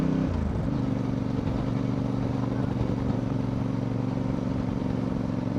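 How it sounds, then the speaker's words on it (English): A motorcycle engine is held at high revs while the rider controls speed with the clutch during slow-speed riding, giving a steady, close, sustained mid-pitched drone with a constant rumbling hum throughout. "Let the engine rev a lot higher than you need to, and just use your clutch to give you the speed that you want to"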